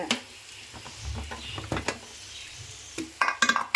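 Vegetables and masala for veg fried rice frying in a pan, with irregular stirring scrapes and clinks of the spoon against metal, growing into a quick burst of clattering strokes near the end; no voices.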